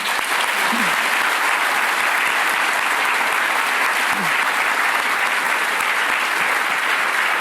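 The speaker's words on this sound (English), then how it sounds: "Panel, a big, big, big clap for you." An audience gives a panel of speakers a strong round of applause after an evening talk on the changing brain, loud, dense clapping sustained evenly from start to finish.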